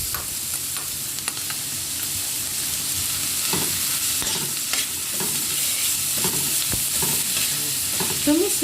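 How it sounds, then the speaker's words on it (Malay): Finely crushed garlic frying in a pan for chicken cheese popiah, a steady close hiss of oil with scattered scrapes and taps of a utensil stirring. "Masukkan bawang putih yang telah ditumbuk halus."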